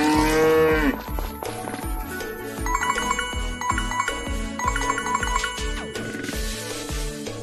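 Cows moo in a barn in Story of Seasons: Friends of Mineral Town, one long low moo opening over cheerful chiming game music that carries on without talk.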